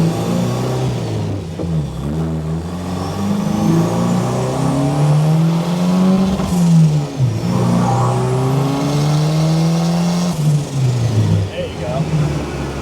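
A second-generation Toyota Ultra4 race truck driving on a road in single low gear, its engine note rising and falling steadily throughout while occupants talk over it inside the cab.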